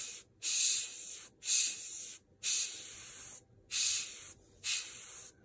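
An airbrush sprays Createx Illustration neutral gray paint in five evenly spaced bursts of about half a second to a second each. Each burst is a close, crisp hiss separated by brief silences.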